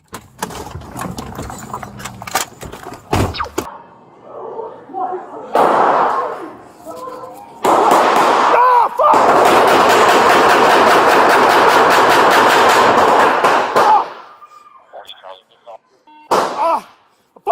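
Gunfire erupts during a police bodycam encounter, with sharp loud shots and a long rapid burst of firing, mixed with shouted voices and commotion.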